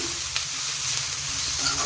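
Potatoes for masala dosa filling fry and sizzle in a pan while being stirred, a steady close hiss with a few soft scrapes throughout.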